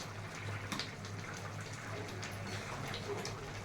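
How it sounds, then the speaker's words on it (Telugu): Soft, steady bubbling of a pot of egg and okra tamarind stew simmering, faint and continuous with no voices. "పులుసు ఎలా మరుగుతుంది."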